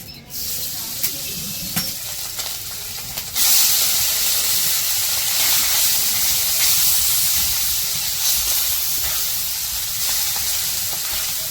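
Fish frying in a pan, a loud, steady hiss and sizzle that surges up after a few seconds of quieter frying and keeps going, close by.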